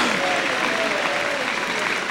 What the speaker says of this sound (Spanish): Poderoso un aplauso para Cristo.